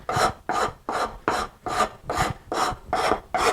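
A wood rasp shapes a wooden sculpture in eight even, rhythmic strokes, each a coarse rasping scrape, close and loud with no voices.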